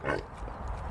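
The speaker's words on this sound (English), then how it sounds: "These pigs are lovely." Tamworth pigs approaching on a smallholding give one short grunt up close, followed by a low, rumbling snuffle.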